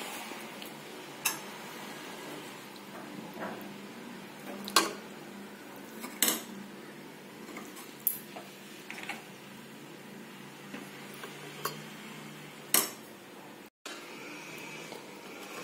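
Spoon scraping and clinking against a metal vessel while cooked rice is stirred into tamarind gravy, with irregular sharp taps and soft scrapes over a steady quiet background.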